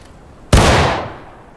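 One close, loud musket shot from War of Rights skirmish training, a sharp crack with a broad ringing tail that fades over roughly half a second.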